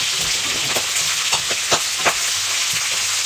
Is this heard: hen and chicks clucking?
no